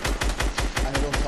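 Rapid gunfire in a video game: about seven loud, close shots in an even automatic rhythm over a second or so, with no talk over them.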